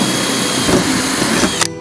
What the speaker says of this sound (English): So this rivet doesn't really want to go in, so that's time for us to use the drill.